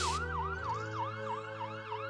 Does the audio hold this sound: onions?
no